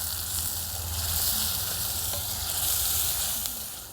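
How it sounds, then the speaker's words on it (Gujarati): Onions with chili garlic paste frying in hot oil, giving a steady, close sizzle with soft stirring and a dense crackling hiss throughout. "ડુંગળી આપણી તેલમાં સારી રીતે સડી ગઈ છે"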